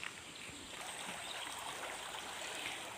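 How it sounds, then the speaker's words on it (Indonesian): A cold-water river stream flows steadily at the Sampuraga hot spring area, a continuous faint rushing wash of water with no one speaking. "ternyata di sini ada sungai yang mengalir teman-teman, tapi sungainya adalah air dingin, bukan air panas ya teman-teman"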